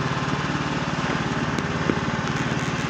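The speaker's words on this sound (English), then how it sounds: "driving the lawnmower." A riding lawn mower engine runs steadily at close range, a loud, even chugging drone with no talk over it.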